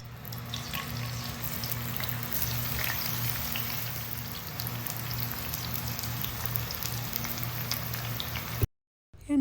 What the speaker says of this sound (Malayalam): നമുക്ക് കട്ട് ചെയ്ത് വെച്ചിട്ടുള്ള പാവക്ക ഇതിലേക്ക് ചേർത്ത് കൊടുത്തിട്ട് ഫ്രൈ ആക്കി എടുക്കാം.